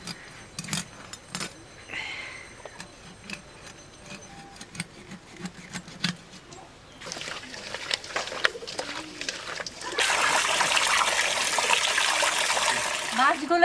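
Large boal river fish are rinsed in water, first with scattered clinks and light splashes, then steadily louder sloshing and running water toward the end, with a voice speaking at times.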